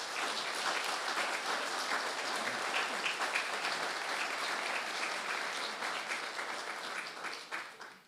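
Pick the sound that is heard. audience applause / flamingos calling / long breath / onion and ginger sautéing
audience applause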